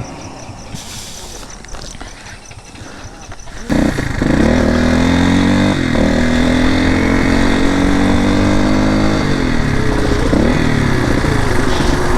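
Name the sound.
motorcycles riding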